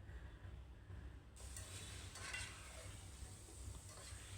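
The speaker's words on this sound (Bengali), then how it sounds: "তো এখন আমি বাটারের মধ্যে কিছুক্ষণ চিকেনটাকে ভেজে নেব।" Chicken fries quietly in butter in a pan, a faint steady sizzle that brightens partway through with soft stirring scrapes, no talk.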